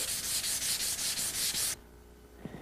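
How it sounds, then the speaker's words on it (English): Sandpaper scrubbing across paint on a guitar body, with about eight quick rhythmic back-and-forth strokes that stop abruptly, leaving near silence and a faint tap. "And I'll sand at an angle like this, and I'll go back across it that direction."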